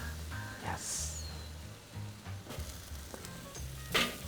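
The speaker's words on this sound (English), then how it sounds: "You gotta hear the sizzle." Steady sizzling hiss of eggplant slices on a hot grill, continuous throughout with a few soft clatters, no voices.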